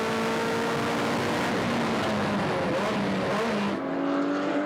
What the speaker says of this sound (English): Wonderful noise from the 360 Challenge.